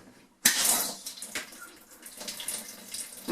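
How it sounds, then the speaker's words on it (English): Cold water gushes from a spigot into a bucket, starting with an abrupt splashing burst. The rushing, splattering flow continues and varies a little in strength. "I'm going to take a bucket and give them a little flush to make sure I get any air out and or other debris."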